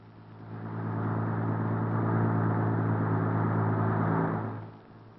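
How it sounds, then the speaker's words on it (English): Military vehicles cross a newly opened Bailey bridge in Italy on archival wartime film, a steady engine drone swelling in over the first second, holding loud and continuous, then fading away near the end. "Two days later, the Bailey Bridge is open to military traffic."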